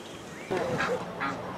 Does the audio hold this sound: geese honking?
yes